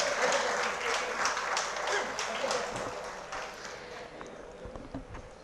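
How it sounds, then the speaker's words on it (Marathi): Audience applause for theatre artists at a Marathi drama awards ceremony, a dense steady wash of many hands clapping that holds for several seconds and slowly fades. "कलावंतांसाठी जोरदार टाळ्या वाजवायच्या आहेत"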